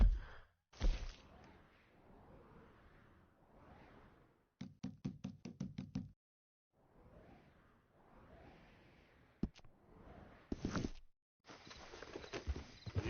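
Horse hooves in Red Dead Redemption 2, a short burst of rapid clip-clop beats during riding, set between soft breathy sighs and a few isolated knocks, with long quiet gaps.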